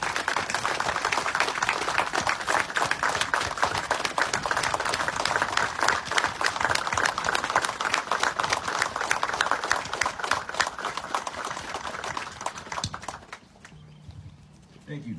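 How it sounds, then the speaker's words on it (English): Audience applauses for a retiring Marine at a retirement ceremony, with steady, dense clapping that fills the room for about thirteen seconds before fading into a brief lull. "ladies and gentlemen, please join me in a round of applause"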